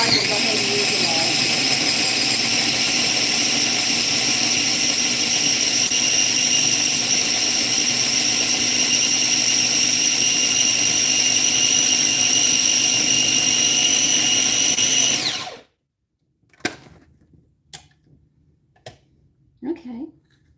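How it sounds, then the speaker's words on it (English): Food processor grinding lard together with a nut mixture of walnuts and almonds, a steady loud motor whine with a high tonal hum, running continuously for about fifteen seconds and then cutting off abruptly, followed by a few faint clinks. "They say put it in a food processor, so I have. So I'm going to grind this up."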